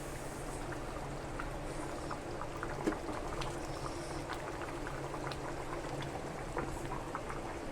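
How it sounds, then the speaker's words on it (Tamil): A pot of curry bubbles at a steady simmer, soft continuous gurgling and popping close by with no talking. "இந்த பக்கம் குழம்பு கொதிச்சிட்ருக்குது"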